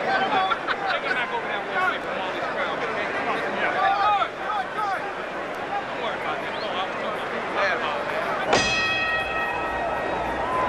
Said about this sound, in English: the bell has sounded for round six